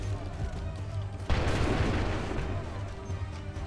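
A musket volley in Assassin's Creed 3 goes off with a sudden loud broadband crash and then a long rolling rumble that fades slowly. A voice talks faintly underneath.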